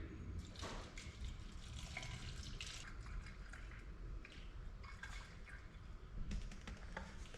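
A 50-50 mix of water and rubbing alcohol is poured into a spray bottle, a soft, close trickle and splash running steadily with a few brighter bursts, quiet overall.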